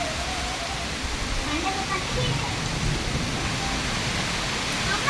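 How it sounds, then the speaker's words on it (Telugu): Summer rain pours down over a home garden and swimming pool in May, a steady, close, even hiss of falling water with faint voices underneath. "ఎంతెండ్ల కూడా వానొస్తుంది"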